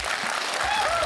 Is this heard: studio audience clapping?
yes